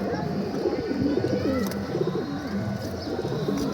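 Soft, continuous cooing of several pigeons close by, a low burbling chorus with overlapping rolling calls.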